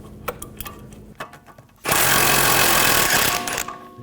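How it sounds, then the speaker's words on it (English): Power socket wrench with a 16mm socket spinning a nut off a rear sway bar link stud on a 2010-2014 Volkswagen GTI, the stud held with locking pliers; a loud, steady close whir for about two seconds after some clinks and handling. "I'm going to use a 16mm socket. Get it to start spinning."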